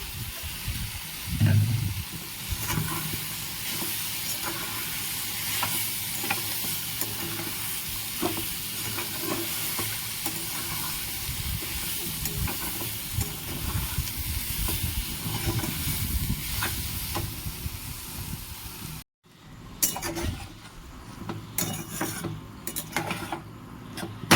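Bora batter sizzles and hisses in hot oil in a pan while being stirred with dry chilli powder, a steady close frying crackle with scraping stir strokes, then a brief cut and the sizzle resumes.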